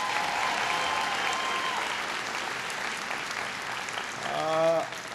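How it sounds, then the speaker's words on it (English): Sustained audience applause at a YMCA speech on the American Jobs Act in Jamestown, North Carolina, a steady crowd roar that fades slightly before a voice rises briefly near the end. "Give her a big round of applause."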